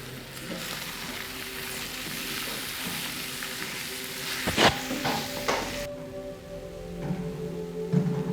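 Spices and stick boti masala frying in a pan for a chicken cutlet roll filling, a steady close sizzle with a few louder crackles and scrapes near the middle before it drops to a quieter hiss.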